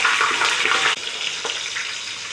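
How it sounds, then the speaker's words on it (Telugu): Whole spices and green chillies frying in hot oil for chicken pulao, a dense close crackling sizzle with a brief stirring scrape partway through. "ఆయిల్ వేడైపోయింది మసాలాలు వేసేసుకుంటున్నా మసాలాలు వేసుకున్నాం కదా పచ్చిమిర్చి వేసుకుంటున్నా"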